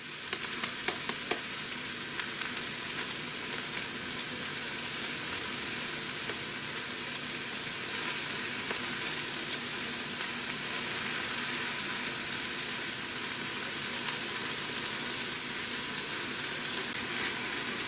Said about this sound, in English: And give this a stir.